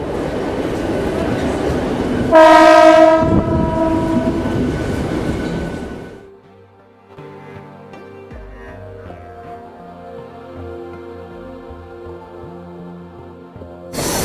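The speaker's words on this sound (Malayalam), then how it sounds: "ഇതാണ്ട് നമ്മുടെ ട്രെയിൻ. ഇത് ഫാസ്റ്റ് ലോക്കലാണ്." A Mumbai fast local commuter train rumbles past loudly at Andheri station with a short horn blast, then the noise fades into the quieter hum of the station, with voices faintly in the background.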